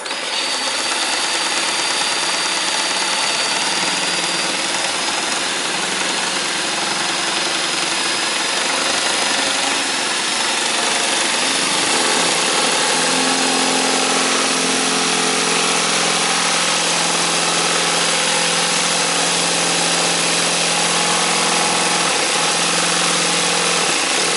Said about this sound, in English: we need to pick this lock with power tools.